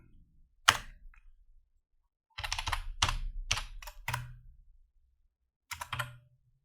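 Keystrokes on a computer keyboard while a command is entered at a Windows prompt: a single sharp tap, a pause, then quick clustered bursts of clicking, close and crisp, ending with a short final flurry.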